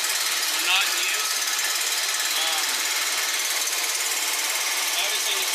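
Old generator on a fire truck running with a dense, hissy mechanical drone, steady and loud throughout, with a voice speaking faintly underneath.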